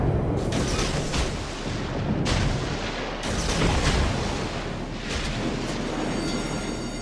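Heavy naval artillery in World of Warships aboard the premium ship Okhotnik, with several deep booming salvos at irregular intervals, loud and close over a rumbling background.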